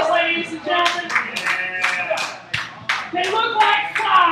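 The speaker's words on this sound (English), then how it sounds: "Round of applause, ladies and gentlemen." A comedy club audience in a dive bar lounge applauds in steady, uneven bursts of hand claps, with voices and lively crowd chatter running underneath throughout.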